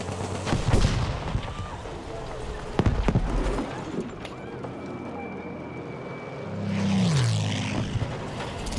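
In the video game Battlefield V, on the Hamada map in Breakthrough mode, sharp gunshots crack early on, then a propeller aircraft swells loudly as it passes overhead.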